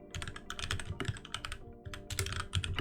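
Quick bursts of typing on a computer keyboard, close and crisp with irregular clusters of key clicks and short pauses between them.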